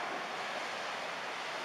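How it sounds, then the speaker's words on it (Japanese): A tsunami's second wave surges over a seawall at Isohara in Kitaibaraki, Ibaraki, during the 2011 Great East Japan Earthquake, heard as a steady distant roar of rushing water mixed with wind noise, without speech. "ついに堤防を乗り越えて津波の第二波が来ました。"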